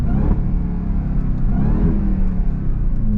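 The supercharged engine of a 2024 Dodge Durango SRT Hellcat SUV revs hard, a loud, deep, continuous rumbling roar heard up close with no talk.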